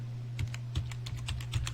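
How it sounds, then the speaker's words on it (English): Soft clicks from a computer keyboard and a notepad being shifted on a desk, a few light taps spread over a couple of seconds over a steady low hum. "pull my keyboard back to me a little bit. So that's the sounds that you're hearing."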